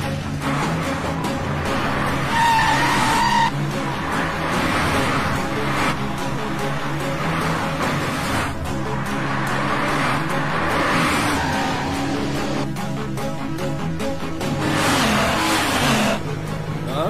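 A car racing in at high speed during a movie chase, its engine roaring and revving loudly with surging acceleration and tire noise, dense and continuous for the whole stretch.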